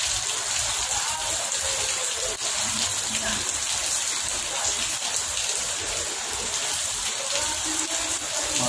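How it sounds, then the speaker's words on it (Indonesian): Steady rain falls at a crowded outdoor political rally in West Sumatra, a continuous broadband hiss of drops on surfaces filling the whole stretch at an even level, with no clear talk above it. "Masih hujan."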